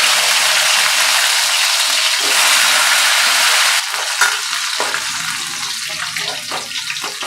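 Pieces of gathi kochu (taro) frying in hot oil for Bengali shukto, a loud steady sizzle that drops slightly partway through as the pieces settle, with occasional stirring clatter.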